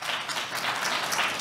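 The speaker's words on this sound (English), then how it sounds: "so kind of big round of applause to them" A conference audience applauding the organizers, a short, steady wash of many hands clapping in a hall, evenly sustained.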